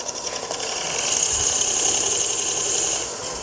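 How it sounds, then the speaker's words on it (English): A wood lathe spins up while a pen blank is trimmed, giving a steady close-up high whine with a faint rattle that swells slightly midway and never stops. "starting up your lathe and now pushing on it"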